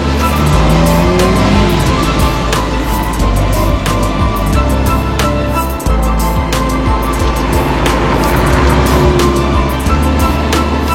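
A Ferrari 308 GTSi sports car drives by close and loud, its engine droning continuously with shifting pitch and a brief dip mid-way, no voices over it.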